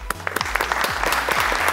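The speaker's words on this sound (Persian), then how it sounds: "تشویق کنین" Studio audience on an Iranian Family Feud game show breaks into steady clapping, dense and continuous over a low hum, with no talk.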